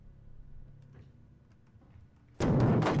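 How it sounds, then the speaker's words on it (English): In a horror video game, a fire extinguisher suddenly clatters loudly after a quiet, faint stretch, a brief burst near the end. "the first bit of spookiness on this game was the sound of the fire extinguisher"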